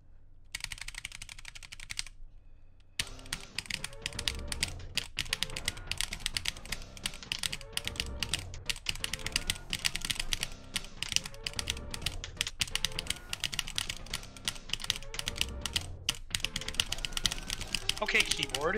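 A computer keyboard is hammered in fast, dense, rhythmic bursts during a round of the rhythm game Etterna, with a voice talking over the steady clatter after a brief pause near the start.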